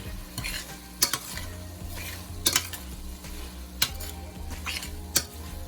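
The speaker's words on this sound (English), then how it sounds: "Now just let's give this a little stir." Ackee and saltfish sizzle quietly in a pan as a spoon gently stirs them, leaving a few distinct scrapes and clicks against the pan at a slow, even pace over the low frying hiss.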